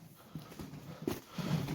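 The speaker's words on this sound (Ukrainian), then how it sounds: "Такі кобилки." Purebred Novooleksandrivka draft mares for sale on a Ternopil farm move about, their hooves clopping on the ground in a few scattered, fairly faint steps over low background noise.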